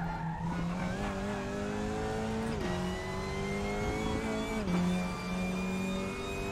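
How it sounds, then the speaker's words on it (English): A WTCR touring car in RaceRoom runs with a steady engine drone while its front tyres lock up under braking, giving sustained squeals and pitch drops with a few sharp skids. "Why I'm locking up the fronts more this race than what it was"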